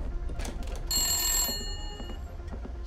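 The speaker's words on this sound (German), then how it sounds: "Das Telefon klingelt." Telephone in the horror game The Nightfall rings with a bright electronic trill for about half a second midway, set against a low ambient rumble and faint scattered clicks, no talk.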